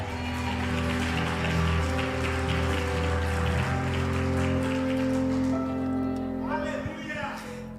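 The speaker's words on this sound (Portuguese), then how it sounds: "Se for para o Senhor, aplaude Ele." A church congregation applauds during a sermon, a dense sustained roar of clapping over music, steady and loud before thinning out near the end.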